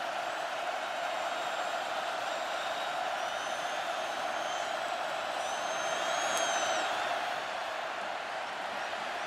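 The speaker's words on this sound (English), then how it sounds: "Crowd gets louder and louder." Large football stadium crowd at a college game between North Carolina and Virginia Tech on third down, a steady dense roar that swells slightly toward the end, with faint whistles and shouts mixed in.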